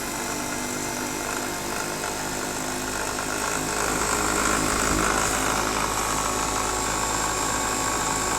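A car alternator runs as a DIY brushless DC motor, giving a steady high-pitched electric whine and whir that holds continuously at close range with a slight rise partway through.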